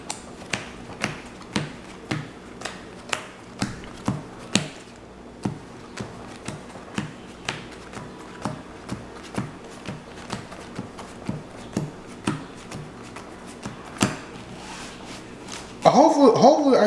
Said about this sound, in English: Power shuffle my deck.